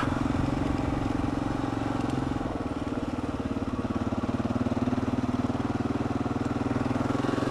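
Kawasaki KLR650 single-cylinder dual-sport motorcycle riding on a dirt trail, its engine a steady, close, throbbing drone with a slight dip in revs midway, heard alone without talk.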